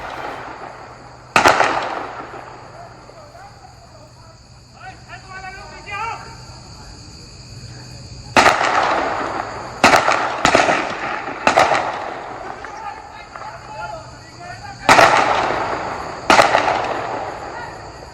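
Gunfire during a police encounter in Jamshedpur, Jharkhand: a string of sharp, loud cracks, first single shots and then quick bursts of two or three, with a voice faintly underneath.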